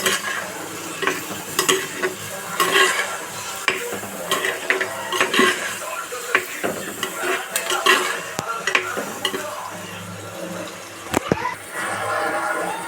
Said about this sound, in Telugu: పసుపు వేసి బాగా కలబెడుతున్నానండి